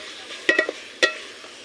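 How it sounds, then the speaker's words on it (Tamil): Chicken being sautéed in masala gravy in a pan, a soft sizzle with a few quick scraping stirs of a spoon, close and quiet, without talk. "நல்லா வதக்கி விட்டுக்கணும் ஃப்ரெண்ட்ஸ்."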